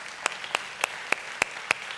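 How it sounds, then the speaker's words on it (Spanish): A church congregation claps in a steady, even rhythm, about three to four sharp claps per second, moderately quiet and with no talk over it. "Dale un fuerte aplauso al Señor."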